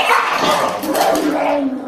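An American Bulldog or a Dachshund gives a quick burst of close, loud barks and yips, all crowded into under two seconds.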